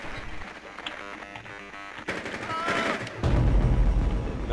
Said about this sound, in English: He just shot both of them at once.